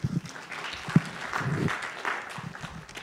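Audience applause at an education conference session, a short burst of clapping with some murmuring mixed in, moderately loud and briefly peaking before settling.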